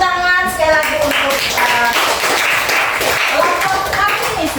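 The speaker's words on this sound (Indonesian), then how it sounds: "tepuk tangan sekali lagi untuk" A class of students applauds a presenting group, a dense burst of handclaps at close range with voices mixed in throughout.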